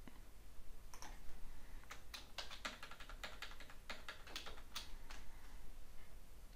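Computer keyboard keys tapped in quick irregular bursts while entering a password for a new Office 365 user account, crisp clicks at moderate level over faint room hiss, no talking.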